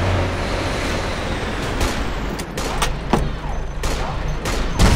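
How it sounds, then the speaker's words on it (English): Gunfire in Operation Flashpoint: Dragon Rising cracks out in scattered single shots and short bursts over a steady rumble of wind and distant battle, with no voices. "Shot fired."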